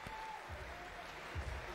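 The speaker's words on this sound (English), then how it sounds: "And applause from the crowd." Crowd applause fills an arena at a Kambosos Jr. vs Haney boxing match as the first round ends, a faint, distant, steady patter of clapping lasting under two seconds.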